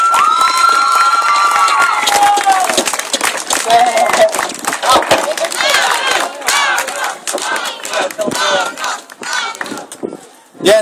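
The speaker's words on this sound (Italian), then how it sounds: "Alciamoci un altro grosso applauso," A crowd at a Final Fantasy X cosplay event in Castelverde, 2011, cheers, whoops and claps loudly and continuously, with shrill shouts and voices throughout and the noise swelling again at the end.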